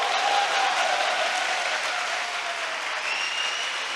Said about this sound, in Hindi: Come on, give a good clap for the Lord